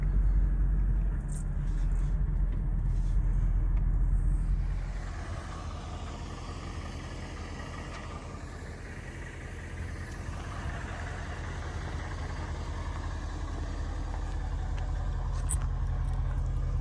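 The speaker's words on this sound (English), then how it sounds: "put this car into the driveway" A 2008 Mercedes SL550 with coilover conversion rumbles at low speed into a driveway, its steady engine drone loud at first, then settling into a continuous idle-like hum for the rest of the stretch.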